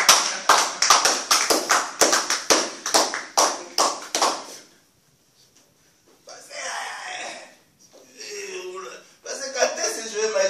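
A church congregation claps together in acclaim of Jesus, a fast, even run of loud hand claps for about four seconds, then a pause before voices and other crowd sounds rise in a lively hall.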